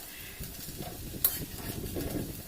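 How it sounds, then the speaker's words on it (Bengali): Chopped potatoes fry in oil while being stirred around the pan, making a soft, low sizzle broken by occasional scraping stirs. "আলুটাকে নেড়ে চেড়ে একটু কালার চেঞ্জ হলেই ভাজা হয়ে যাবে"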